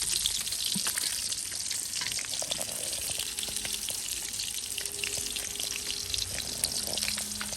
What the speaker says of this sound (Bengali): এদিকে কই মাছ ভাজাই দিচ্ছি